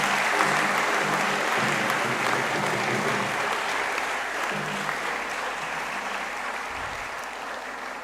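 An audience in a lecture hall claps for a lecturer after an inaugural lecture, a dense, steady round of applause that lasts throughout and fades slightly toward the end.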